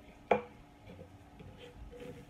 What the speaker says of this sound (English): so just give it a rough chop